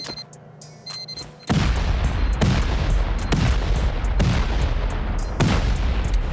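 C4 charges detonate against a vending machine in the game Rust, a sequence of deep, heavy booms with long rumbling tails, four or five blasts close together after a quiet start, loud and near with no voices.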